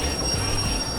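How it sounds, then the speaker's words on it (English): Full train brake applied in the Derail Valley railway simulator: a steady, loud low rumble of rolling stock with a grinding, squealing wheel-and-brake texture running continuously through the second. "Let's go ahead and fully apply the full train brake."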